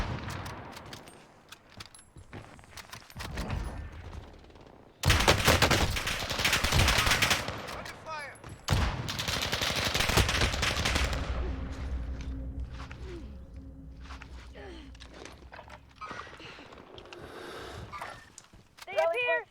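Bursts of automatic and single gunfire in a Warzone firefight, loud and close, several dense volleys separated by quieter gaps, with a voice talking over parts of it.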